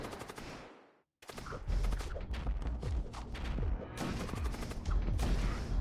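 Weapons fire heavily in the space combat game Void War: after a brief silence, a sustained barrage of rapid booming shots and crashes follows.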